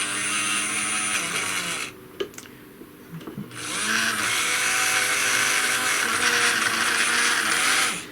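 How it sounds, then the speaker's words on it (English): Tri-ang Super 4 model railway turntable rotating clockwise with a Class 37 locomotive aboard, a steady close mechanical whirr with ratcheting gear clicks, pausing briefly midway before resuming and running on to the end. "let's see if I can get this Class 37 onto the turntable"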